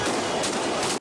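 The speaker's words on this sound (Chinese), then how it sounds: "原来是警察开枪要砸车。" Police gunfire aimed at a car during a traffic stop, a rapid burst of loud, close shots packed into about a second before cutting off abruptly.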